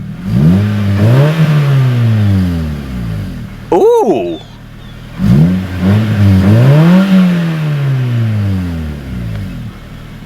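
A Honda Fit fitted with a custom-made exhaust revs repeatedly, with deep bassy rising and falling engine swells close to the listener, and a short excited exclamation breaks in between the revs.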